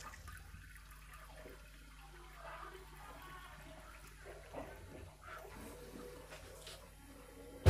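Small submersible water pump moving water between bowls, giving a steady watery rush and trickle throughout, fairly quiet and continuous with occasional splashes.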